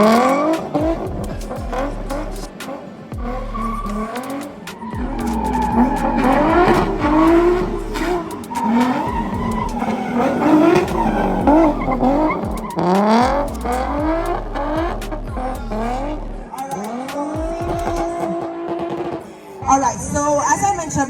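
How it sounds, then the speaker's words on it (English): Drifting car at a car show drift exhibition, engine revving and wailing with long tire squeals and skids, loud and continuous, as a voice talks over an outdoor crowd. "We're gonna give you some more drifting"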